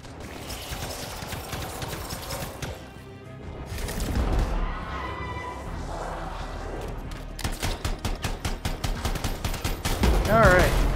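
In the video game Anthem, gunfire shoots enemies out of the air. Bursts and rapid volleys of shots come in steady rhythmic runs, along with explosions and in-game effects, all at high intensity.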